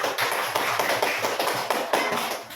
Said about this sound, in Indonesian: Kita berikan aplaus untuk Aira.